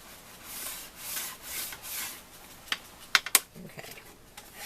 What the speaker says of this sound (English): And then burnish it real good.